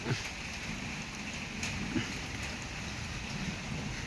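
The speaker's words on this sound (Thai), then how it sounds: "ฝนตกดีครับ" Steady rain falls continuously on a rural Thai market during a Bun Khao Sak merit-making festival, a broad even hiss with scattered louder drops.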